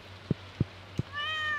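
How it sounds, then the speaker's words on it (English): Three short low thumps in steady rhythm, then a single clear cat meow from the video game Stardew Valley, close and moderately loud. "Little kitty, meow."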